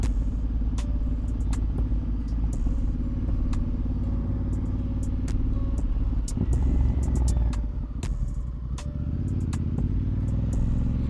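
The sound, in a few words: motorcycles riding away from a bike meet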